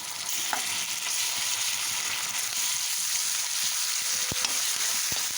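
Ginger-garlic paste ground with cinnamon and cloves fries with turmeric, onions and chillies in a pan, giving a constant close sizzle with a few sharp clicks from the spoon.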